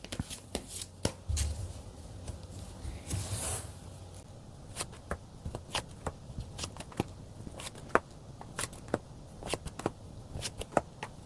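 Tarot cards are shuffled and drawn close by. Soft riffling is broken by a steady run of crisp, sharp snaps and clicks, fairly quiet overall.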